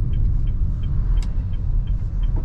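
Car slowing under braking during a driving lesson in front of a vocational school, with a steady low engine and road rumble throughout and faint light ticking on top.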